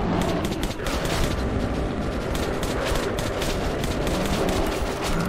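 Sustained gunfire from Metro 2033 Redux, loud and continuous, with rapid overlapping shots forming a dense, chattering barrage throughout.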